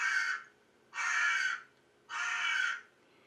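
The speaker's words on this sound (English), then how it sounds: "let me play a crow noise." A recorded crow caws three times in a steady rhythm, each harsh call lasting about half a second with clear pauses between, loud and alone.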